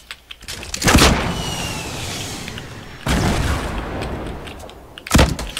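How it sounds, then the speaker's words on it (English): Loud grenade explosions in the video game Fortnite, three heavy booms spaced a couple of seconds apart, each trailing off into a rumbling wash of noise. "I can throw the grenade underneath"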